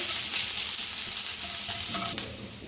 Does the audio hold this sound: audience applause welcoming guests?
no